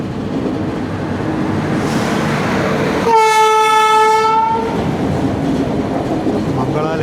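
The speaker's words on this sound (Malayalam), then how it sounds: "മംഗള ലക്ഷദ്വീപ് എക്സ്പ്രസ് ആണ്." Mangala Lakshadweep Express, running from Ernakulam to Hazrat Nizamuddin behind a Tughlakabad shed locomotive, passing close and loud with rumbling wheels and a sustained blast of its horn in the middle, voices faintly audible beneath.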